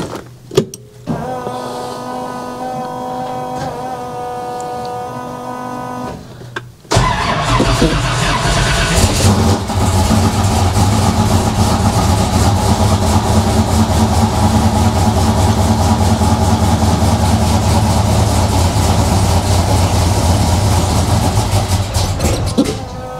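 A car engine fitted with Holley Sniper EFI cranks and catches, then settles into a loud, steady idle that runs on for about fifteen seconds, close by and alone.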